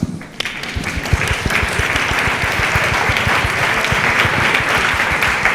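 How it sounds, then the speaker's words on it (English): An audience at a Berlinale 2013 panel claps in sustained, dense applause that rises quickly and holds steady at close range. "so I think you should clap yourself"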